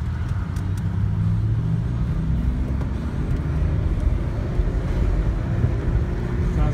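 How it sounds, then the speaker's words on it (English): A 2003 Pontiac Bonneville SE with a 3.8 V6 drives along, its low steady engine and road rumble heard from inside the cabin with wind noise and gentle shifts in engine tone. "Transmission shifts."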